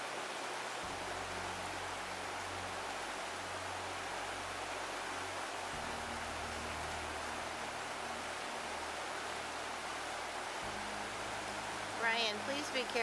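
Flume Falls, a waterfall reached down a short roadside embankment near Lake Placid, gives a steady broadband rushing of falling water, constant and fairly distant, with a low rumble beneath.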